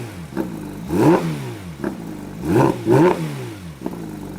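A stock Porsche GT3 RS with its 4-litre flat-six revs repeatedly in short, rising blips with pauses between them, moderately loud and nearby, with no talking.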